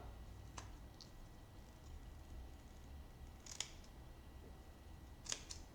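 Scissors snip a few times at an angle, giving sharp, isolated cuts spread out over a quiet background.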